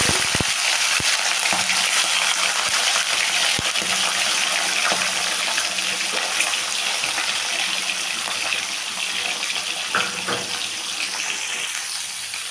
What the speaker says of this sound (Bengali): তো গ্যাসের ফ্লেমটাকে হাইতে দিয়ে আমি চিকেনটাকে খানিকক্ষণের জন্য ভেজে নেব।